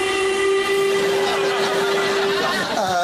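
A steam train's whistle blows one long, steady, loud note over a rumbling background, then fades away near the end.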